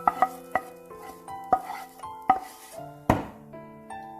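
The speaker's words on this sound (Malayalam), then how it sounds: "ഇതിപ്പം ഞാനിത് കപ്പയ്ക്കകത്തേക്ക് ഇട്ട് നന്നായിട്ട് ഇളക്കി വെച്ചിട്ടുണ്ട്" A spoon scrapes and knocks against a pot while sautéed masala mixture is stirred into mashed tapioca (kappa). Irregular clinks and scrapes repeat close up with no talking.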